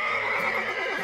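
A human voice imitates a mare's whinny: one sustained, quavering neigh, loud and close, filling the whole short moment without other sounds.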